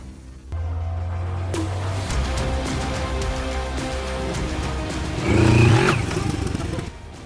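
A Moto Morini X-Cape 650 adventure motorcycle rides along with a steady engine drone, a rising rev and throttle surge near the end, then eases off; the engine is close and loud throughout.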